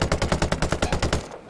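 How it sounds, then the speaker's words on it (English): Rapid automatic gunfire in a video game, loud and close, a steady burst of repeated shots that cuts off near the end. "Just open fire on these guys"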